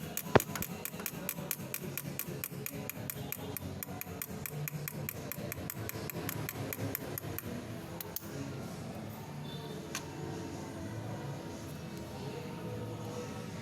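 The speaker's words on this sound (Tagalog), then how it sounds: "Konting pukpok lang." Rapid, regular metallic hammer taps ring out close by, loosening a stuck part while changing the clutch lining on a Honda Supremo motorcycle, a quick series of strikes that slows near the end, with a louder single knock afterward.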